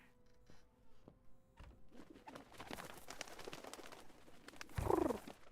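Pigeons coo softly in the video game Syberia: The World Before, low repeated calls heard faintly against a quiet ambient backdrop, growing a little louder toward the end.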